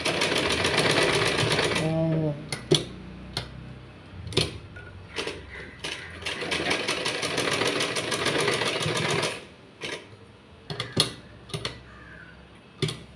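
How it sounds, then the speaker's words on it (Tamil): An electric sewing machine stitches fabric during a tailoring class in loud, rapid mechanical bursts, stopping and restarting several times with short pauses between runs, and a voice speaks briefly in one gap. "இங்கே வச்சு தைக்கணும்."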